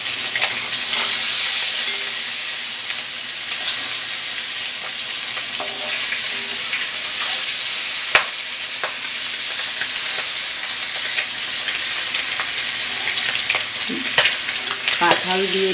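Egg rosha frying in oil and spice masala in a pan while a spatula stirs it slowly, with a steady loud sizzle throughout and occasional scrapes and clicks of the spatula against the pan.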